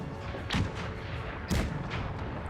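Cannon and rifle fire in a Franco-Prussian War battle game: two distinct booming shots about a second apart over a steady rumbling battle background, fairly muffled and mid-distance.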